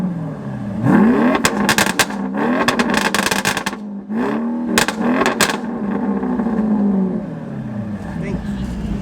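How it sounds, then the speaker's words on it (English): A car engine cranks, catches and revs repeatedly in loud surges, with voices talking excitedly over and between the revs. "he about to start the car for us"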